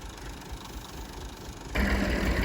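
A tractor engine runs steadily at close range, a low mechanical rumble that jumps noticeably louder and rougher about three-quarters of the way through, with no voices.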